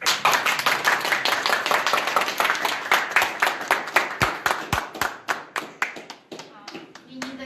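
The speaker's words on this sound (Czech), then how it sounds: "dovolím si vám představit novou manželé Redajovi a prosím o potlesk" Wedding guests in Chomutov clap for the newly married couple, a brisk run of close, crisp handclaps that thins into scattered individual claps toward the end, with a voice speaking over the start.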